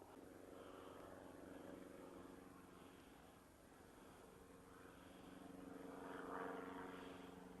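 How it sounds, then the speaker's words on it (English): A propeller airplane drones steadily overhead at moderate distance, a low continuous hum that swells slightly toward the end, heard outdoors among pine trees with no talking. "plane going overhead"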